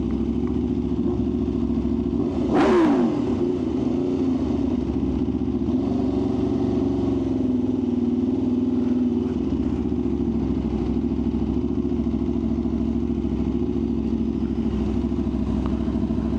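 An Aprilia RSV4 motorcycle engine runs loud and steady in a parking garage, a continuous deep rumble with a brief sharp blip of throttle early on, echoing in the enclosed space.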